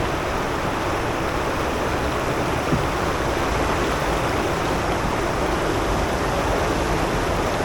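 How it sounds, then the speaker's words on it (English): Water spills over a low weir on a river near Ripon, making a constant broadband rush that stays fairly loud and unbroken, with no talking. "kind of weir here. We can't sort of like navigate this. There's just a bit of movement over the top."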